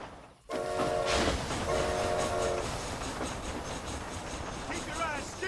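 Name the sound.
train running, from the video game Red Dead Redemption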